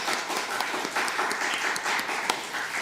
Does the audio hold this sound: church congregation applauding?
yes